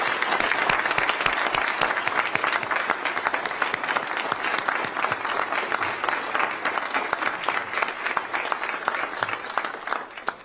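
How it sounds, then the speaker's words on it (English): Sustained applause from a crowd at a military retirement ceremony for a brigadier general, dense and steady clapping filling the full stretch at an even level before it tapers slightly at the end. "So let's give them a round of applause."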